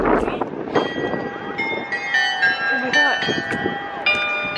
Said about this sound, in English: bell is ringing.